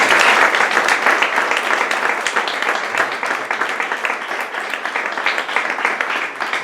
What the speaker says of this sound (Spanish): Para él, un aplauso.